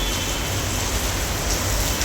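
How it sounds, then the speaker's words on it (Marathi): Heavy rain pours down in a dense, steady roar, constant and close throughout with no pauses. "लय पाऊस आला"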